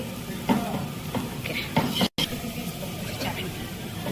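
Onions fry in oil for a village-style Rayalseema mutton gravy, a continuous close sizzle broken by a few stirring clatters and one brief dropout, with faint voices in the background.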